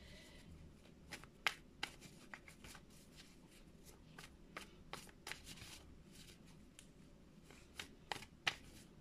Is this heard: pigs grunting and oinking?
no